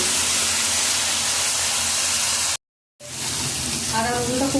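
Ginger, garlic and onion paste sizzling in hot oil in a pan, a loud continuous frying hiss that cuts out briefly, then resumes with crackling pops.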